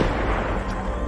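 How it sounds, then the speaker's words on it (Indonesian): A single sniper rifle shot rings out in a Soviet versus German war film, a loud, dense blast with a rolling tail that fills the whole short moment. "suara tembakan tersebut membuat Scott mengetahui posisi Igora"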